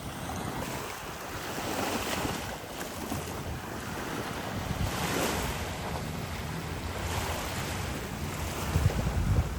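Surf washing ashore in slow, rolling swells on a Thai seashore, mixed with gusty wind buffeting the microphone, with no voices.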